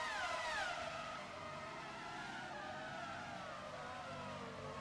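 Simulated race cars lapping the Jerez circuit in rFactor 2, a steady wash of high engine whine with pitch sweeping down as cars pass, continuous and fairly loud with no voices.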